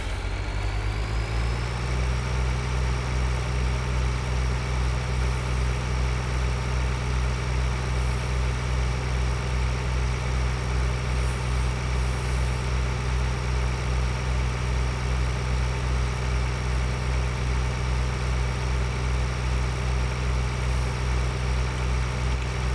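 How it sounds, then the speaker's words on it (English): Steady idling tractor engine in the farming game Farming Simulator 2013, a low droning rumble with a constant pitch that starts up and holds close and loud throughout, with no talking. "So this game is driving tractors around."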